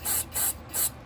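Carburetor cleaner sprayed into the jets of a Homelite XL-12 chainsaw carburetor, three short hissing aerosol bursts in quick succession, close and loud with brief pauses between.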